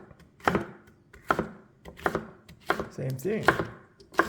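Bell peppers being chopped with a knife on a board in a kitchen, sharp distinct cuts landing in a loose rhythm about every half second to second, close and clear, with a brief spoken phrase in between.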